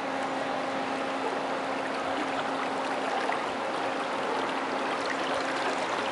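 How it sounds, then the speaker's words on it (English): Floodwater from an overflowing river rushes steadily past flooded buildings, a broad continuous hiss and wash with no break and no voices. "The river is actually flowing into, this is all blending right in."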